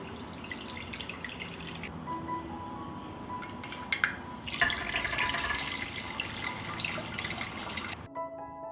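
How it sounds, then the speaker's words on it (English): Water is poured from a glass jar into a pan in a home kitchen, with a few soft pours and trickles, a glassy clink partway through, then a louder, steady splashing stream that ends abruptly. "I pour the water from the jar into pan."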